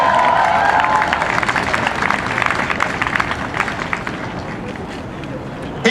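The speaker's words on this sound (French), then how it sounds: "qu'on donne une bonne main d'applaudissement à la FECUM" An audience at a free evening protest show fills the room with sustained applause and cheering, dense clapping that stays loud throughout, with crowd voices mixed in.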